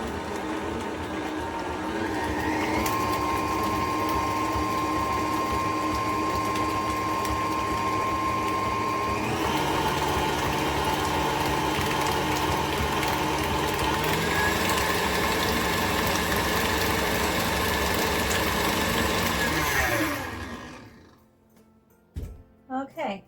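Electric mixer whirring steadily as it blends heavy cream into a sugar-free pumpkin cheesecake batter, a constant motor hum that shifts pitch a couple of times before cutting off near the end.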